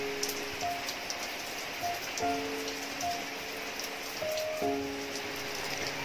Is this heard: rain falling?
yes